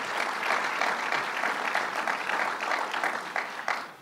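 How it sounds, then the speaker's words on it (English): Dense round of audience applause at a public appearance by Governor Cuomo, steady and fairly close, continuing for several seconds without speech over it. "let's give him a round of applause for that"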